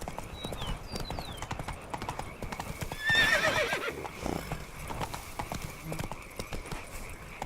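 Roach, the horse in The Witcher 3, clip-clopping with steady hoofbeats close by, then a clear whinny in the middle, under ambient game sound.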